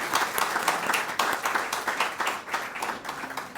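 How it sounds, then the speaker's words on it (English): An audience claps steadily at a ceremony honoring contributors to the care of conjoined twins, a dense, even patter of many hands filling the room without any voices over it. "Let's give them a big clap."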